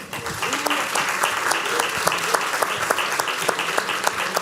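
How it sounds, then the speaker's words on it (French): Audience applause at a conference welcoming two speakers, a steady wash of many hands clapping close and fairly loud, with a few faint voices mixed in. "Mathias Hoth et Pascal Blanchard sous vos applaudissements."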